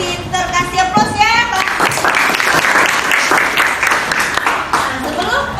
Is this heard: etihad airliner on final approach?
no